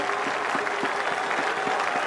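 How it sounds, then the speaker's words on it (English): Cricket stadium crowd applauding a batsman's century during Bangladesh's ODI win over Australia in the NatWest tri-nation series; broad, sustained clapping and crowd roar from a distance, with a faintly pulsing rhythm and a commentator's voice not prominent. "Great applause."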